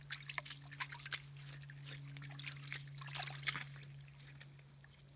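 Soft trickling and dripping water washing down a sluice box over bedrock gold material, splashing irregularly over a steady low hum, faint and fairly close, with no talking.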